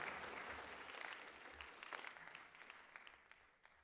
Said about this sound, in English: Even though it's virtual, we can clap.